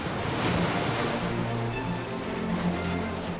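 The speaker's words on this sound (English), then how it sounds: "Wave washing." Ocean waves washing during an orca wave-washing attack, a steady broad roar of surf and rushing water, close and fairly loud, with no voices.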